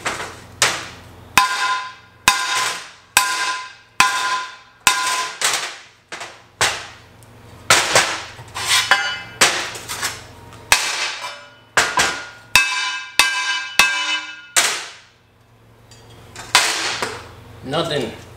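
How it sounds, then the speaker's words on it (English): Hammer blows striking a freshly made stick weld on steel, a long run of sharp, loud metallic bangs in quick irregular bursts with brief pauses between groups. "We're gonna bang on this thing and make sure."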